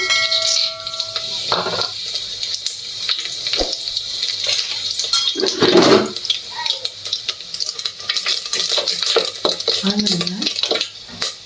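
Tempering spices crackle and sizzle in hot oil, with a utensil clattering against the pan and scraping sounds throughout.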